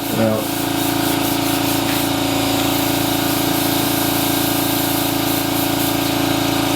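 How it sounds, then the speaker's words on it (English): A siphon-feed airbrush sprays ammonia-based glass cleaner through to clear out leftover acrylic paint, giving a steady hissing spray that runs without a break from start to end, with a brief clatter at the very beginning. "Put some of that in my cup and just spray that through"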